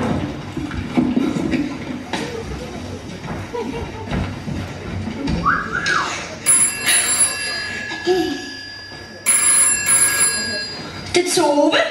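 A telephone rings in a Danish school-year-end setting, repeated electronic ring bursts standing out clearly over and between people talking nearby.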